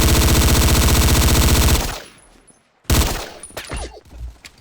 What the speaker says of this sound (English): So the Croats are starting to shoot at us.